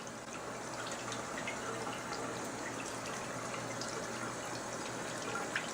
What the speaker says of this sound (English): Swirl the brush until the water runs clear.